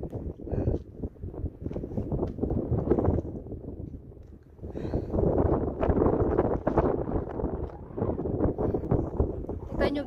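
Strong wind buffets the microphone at the Biu Tsim Kok viewing point, a steady rough rumble lasting throughout with gusts swelling midway, while a person talks over it.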